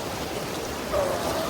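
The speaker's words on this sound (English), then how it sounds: "Glacial water." Glacial meltwater stream in South America flowing close by, a steady rushing trickle under a faint breeze.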